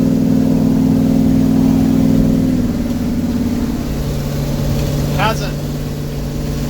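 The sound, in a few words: 1971 Chevy C10 truck engine climbing a hill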